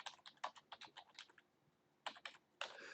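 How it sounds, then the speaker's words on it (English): Quick, light keystrokes on a computer keyboard, a rapid run of taps, a brief pause, then a few more short bursts of typing, close and quiet. "let me just type something up here"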